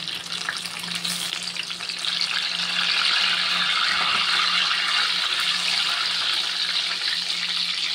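Tomato chops stuffed with lentil filling fry in a pan over low heat, giving a steady, close sizzle of hot oil that holds throughout and grows slightly fuller partway through, with no talking.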